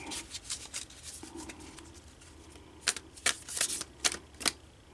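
Tarot cards being shuffled by hand, a series of soft papery riffles and sharp flicking snaps, growing more distinct and clustered in the second half, close and quiet with no talking.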